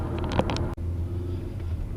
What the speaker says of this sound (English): So still driving to Wales